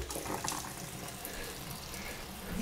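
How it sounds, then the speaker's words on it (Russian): A bathroom sink faucet opened fully, cold and hot, sends a steady rushing stream of water into the basin, soft and continuous for the whole stretch with no voices. "Открыта полностью вода в раковине."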